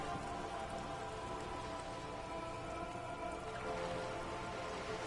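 Steady rain falling in the video game Disco Elysium, a soft, even patter of drops that holds constant, with no speech over it.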